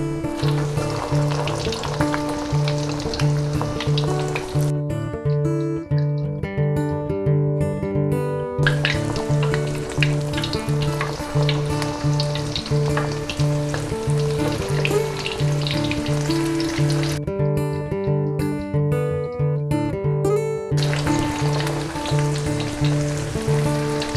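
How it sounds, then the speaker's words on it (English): Vegetarian lentil meatballs fry in hot ghee with a steady, dense sizzle and crackle that runs loud and unbroken throughout, while bright tonal music plays underneath. "I got a nice batch of vegetarian meatballs here ready to go into the ghee"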